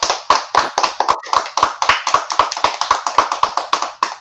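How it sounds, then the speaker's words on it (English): An audience claps for teen actors after a theater performance, a steady run of sharp, evenly spaced claps close up, sounding like a single pair of hands with no voices. "give our actors a wonderful hand clap"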